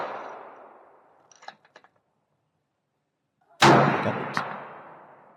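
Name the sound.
Remington 700 .308 rifle shot, American Marksman ammo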